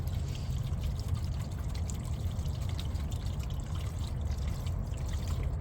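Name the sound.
premixed 50-50 coolant poured into JCB backhoe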